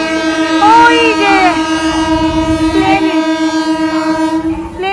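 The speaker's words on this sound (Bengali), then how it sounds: "এটা কি ট্রেন আসছে?" A train bound for Barddhaman Junction sounds a loud, sustained horn with rising and falling harmonic blasts, close by and dominating the scene.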